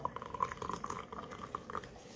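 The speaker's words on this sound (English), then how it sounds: "And pour you a little more in yours." Tea trickles into a cup in a quiet, thin pour with small drips and splashes, soft and close, with no talking over it.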